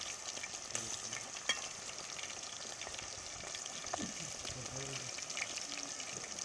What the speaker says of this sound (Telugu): ఒక గిన్నెలో ఆయిల్ పోసి ఇలా ఒక్కొక్క ముక్కల్ని వేసుకోండి.